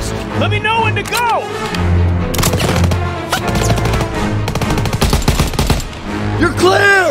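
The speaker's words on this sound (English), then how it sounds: "Gotta suppress the machine gun!" Machine gun fire in the World War II shooter Call of Duty WWII, dense bursts of automatic gunfire and explosions amid battle noise, with shouting voices over the top.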